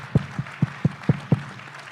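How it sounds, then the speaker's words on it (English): Conference audience at a panel event clapping for the speakers, a sparse run of about six distinct, evenly spaced claps, close and fairly loud, with no talking. "If we can give them a round of applause."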